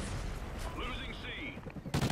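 Vector CRB gunfire in the video game Call of Duty: Ghosts, rapid bursts of automatic shots in dense clusters, loud and close, with a sharp burst at the end.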